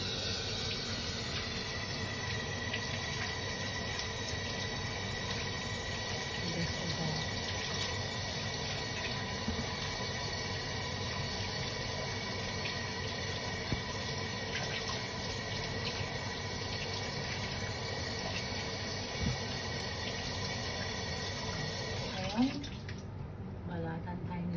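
Cassava is washed under a running kitchen tap, with a steady rushing flow of water that lasts throughout and stops near the end.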